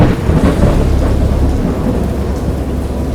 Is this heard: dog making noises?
no